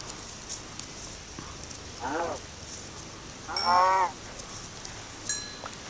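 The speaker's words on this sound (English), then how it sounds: "And there is a cow." Two short low moos from a cow in Minecraft, the first brief and the second longer and louder, over a quiet ambient background with faint tones.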